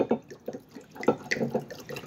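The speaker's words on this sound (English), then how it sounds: "And here's my here's my wine. My wine. I'm going to pour some in there." Wine glugs into a glass of orange juice for a mimosa, giving an uneven run of close, splashy liquid pulses and gurgles with no talk over it.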